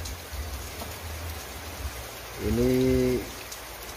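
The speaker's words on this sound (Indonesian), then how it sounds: "Hari ini hujan ya." Rain falls steadily outdoors with an even hiss during preparation of a photosynthetic bacteria brew. A short voice rises briefly near the end.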